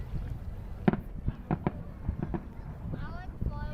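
Australia Day fireworks in Perth pop and crackle in a series of sharp bursts at a distance, with people talking nearby throughout.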